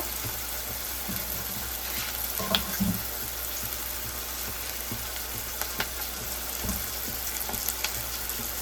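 Prawns fry lightly in a pan with a faint continuous sizzle and soft hiss, broken by a few small clicks and crackles, heard quietly over a low background hum.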